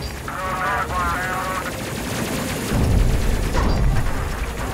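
Ship guns firing in the Space Crew video game: a dense run of rapid, loud shots and booming blasts with game effects, continuing throughout.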